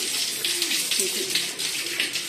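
Tap water pours steadily into a bucket at home, a continuous hissing gush close by, with a voice talking softly underneath.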